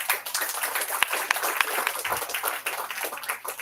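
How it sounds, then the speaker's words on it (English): A small gathering at a charity fundraiser event applauds, a dense, steady patter of many hands clapping at moderate distance, with a few sharper individual claps standing out and no talking over it. "you should give yourselves a round of applause"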